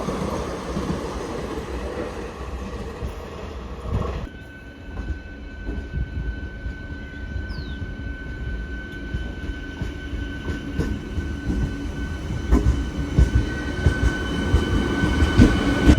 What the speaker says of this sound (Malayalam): തിരുവനന്തപുരം മംഗലാപുരം ഏറനാട് എക്സ്പ്രസ് ആണ് പോകുന്നത്